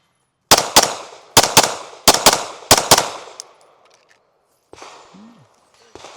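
Rapid handgun shots fired at a cardboard target crack loudly in quick pairs, eight in all over about three seconds, each with a short echoing decay, then fainter shuffling and handling sounds.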